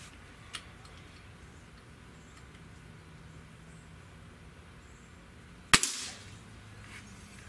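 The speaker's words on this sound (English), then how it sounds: "So let's go ahead and test this and see what we got." A Gamo Swarm Magnum .22 breakbarrel air rifle fires a single sharp, loud crack near the end, followed by a brief ringing decay against quiet background.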